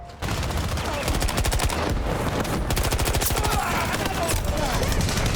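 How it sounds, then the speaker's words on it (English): Battlefield 2042 combat with sustained rapid automatic gunfire, dense rattling bursts firing almost continuously, loud and close, with brief gaps between volleys. "we got shot from the back"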